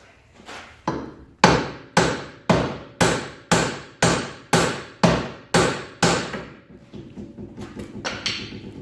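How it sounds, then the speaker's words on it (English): Metal rings under a hammer striking around the bolt on a BMW E36 steering knuckle about a dozen times in a steady rhythm, each blow sharp and close, followed by lighter rattling taps. "you just hammer the surface that's around your bolt"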